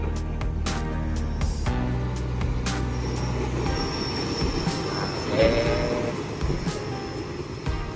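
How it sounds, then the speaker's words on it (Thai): A small two-carriage train passes on a Thai rail line, its wheels squealing high and sustained over a heavy rolling rumble, loud and close, with a few sharp clanks early on. "รถไฟน้อย รถไฟน้อยครับ รถไฟน้อยจริงๆมีสองขบวน มีสองโบกี้ครับ"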